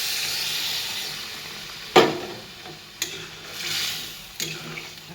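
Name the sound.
water added to fried spices sizzling in a pan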